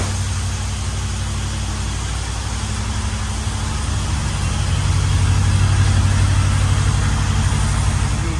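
A 455 big block V8 engine in a Delta 88 with an X-pipe and Flowmaster mufflers idles with a deep, steady rumble close by, swelling slightly louder toward the middle and end.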